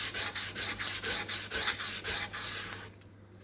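A wooden tissue box is sanded by hand with a small strip of sandpaper, giving about a dozen quick, rhythmic rasping scrubs close up before stopping abruptly.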